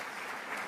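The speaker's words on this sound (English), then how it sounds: "Please give these new members a round of applause." An audience applauds at a leadership luncheon welcoming new board members, a steady dense wash of clapping with no voices over it.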